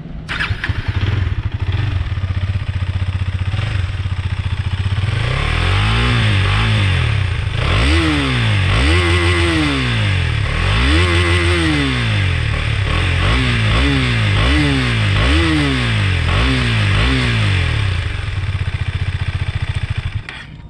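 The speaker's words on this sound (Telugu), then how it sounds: "ఒకసారి 360 degrees వ్యూ చేసి ఎగ్జాస్ట్ నోట్ అయితే వినండి" Husqvarna Vitpilen 250 motorcycle idling steadily, then revved repeatedly in short throttle blips with a rising and falling exhaust note, loud and close with no talking.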